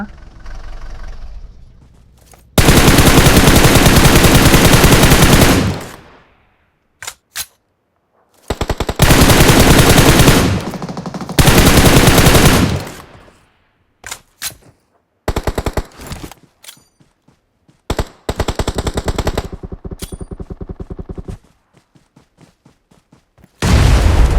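Heavy automatic gunfire from PUBG Mobile tournament play comes in long sustained loud bursts, broken by gaps and short sharp single shots, with a closing stretch of lighter rapid fire.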